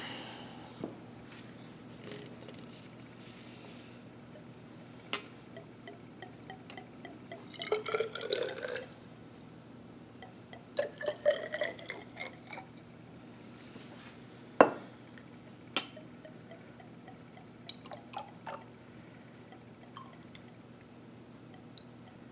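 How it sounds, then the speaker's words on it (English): Water is poured and measured into a glass graduated cylinder in a lab, giving sparse drips, short splashy pours and small glassy clinks over a quiet low hum. "this time I'm going to use a graduated cylinder to measure out the 50 mils."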